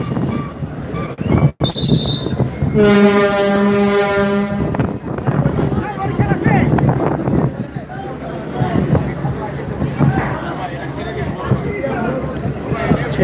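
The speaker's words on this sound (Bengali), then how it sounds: "ছেড়ে দিয়েছে লঞ্চটি দেখতে পাচ্ছেন" A passenger launch departing the Sadarghat launch terminal sounds a long, loud, deep horn blast of about two seconds amid a busy riverside crowd, with people talking nearby throughout.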